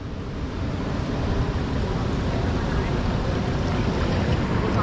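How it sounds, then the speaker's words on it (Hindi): Strong waves of the flooded Shivnath river rush and churn continuously, a loud, dense roar of turbulent water mixed with wind buffeting the microphone, steady with no break. "ए गाड़ी तक पानी चला गया, इतनी तेज लहर"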